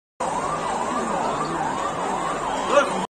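A fire brigade siren wails at a serious fire on Abdul Rahman Street in Mumbai, its pitch sweeping up and down in a steady repeating pattern that stays loud and close for the whole clip.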